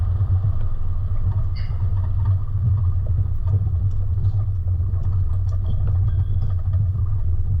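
A four-wheel drive vehicle creeps down a lumpy hill track under engine braking, its low engine rumble loud and continuous with faint knocks and rattles over the uneven ground.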